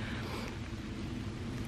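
Light drizzle in a forest, a soft continuous patter and hiss of drops falling steadily and evenly around the listener, with no voices.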